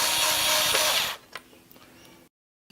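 A power driver tightens screws on a Watersnake DR model trolling motor in a loud one-second burst, followed by a few faint clicks and then silence.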